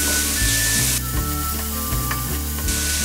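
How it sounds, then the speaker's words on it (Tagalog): Onions sautéing in a pan for pancit canton, a continuous loud sizzle with clattering stirring sounds close by, no talking. "Let's saute the onions for about a minute"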